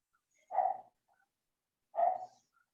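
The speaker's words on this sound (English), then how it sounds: "the dog barking might actually be from Vishnu or Billy" A dog barks twice, about a second and a half apart, each bark short and clear against near silence during an online meeting.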